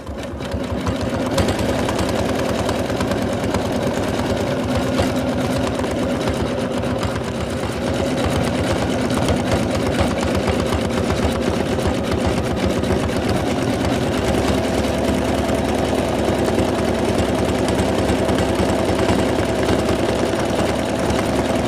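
An in-the-hoop embroidery machine stitches the rosy cheeks on a Santa doll, a continuous close mechanical whirring with rapid needle chatter that holds steady throughout.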